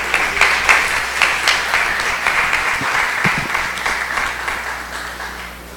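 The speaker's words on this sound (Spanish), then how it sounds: "y un aplauso" Loud, close applause from a course audience honoring a speaker, sharp individual claps at first blending into sustained clapping that slowly tapers off.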